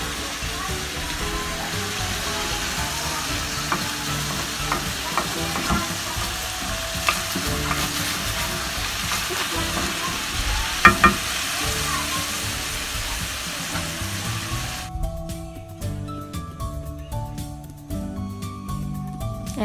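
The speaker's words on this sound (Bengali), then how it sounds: "আমি মিশাচ্ছি যাতে হলুদ ও মরিচের গুঁড়ো সব সবজির সাথে ভালোভাবে মিশে যায়।" A spoon stirs mixed vegetables with chili and turmeric powder frying in a pan, giving a steady loud sizzle and scraping that runs continuously, then drops off sharply near the end.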